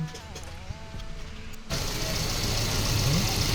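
Close Volvo 240 engine idle with a steady low rumble; partway through the sound thickens into a louder, even running drone.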